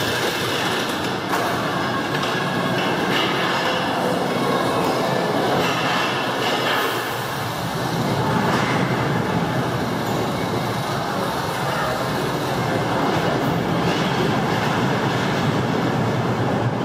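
Roller coaster train rumbling steadily along its track at an amusement park, a continuous loud roar of wheels and cars with a faint squeal, no talking.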